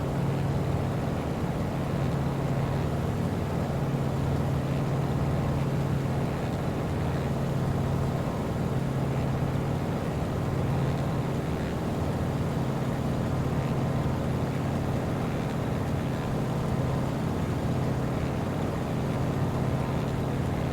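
A Carenado Waco YMF5 biplane's radial engine drones steadily in Microsoft Flight Simulator 2020, a quiet, continuous low hum with a faint tonal whine holding unchanged through the whole stretch.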